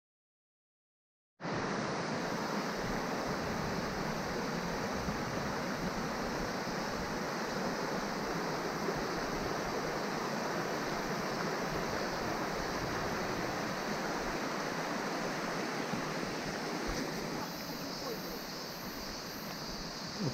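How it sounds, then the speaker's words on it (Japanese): Steady, broadband rushing water from the Otome Falls on a mountain trail fills the scene continuously after a brief silence, a constant roar like falling water heard from nearby. "乙女の滝。"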